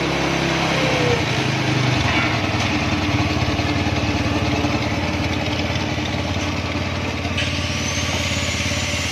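A Motorstar motorcycle that had been flooded and had rat-chewed wiring runs steadily at idle after carburetor tuning, a loud, close, continuous engine drone with slight shifts in pitch.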